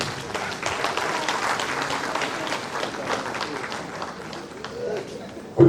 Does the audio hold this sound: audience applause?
yes